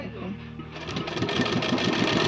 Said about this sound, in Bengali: এভাবে আমি সমস্তটা সেলাই দেবো